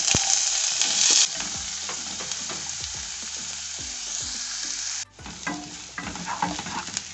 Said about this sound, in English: we add the onions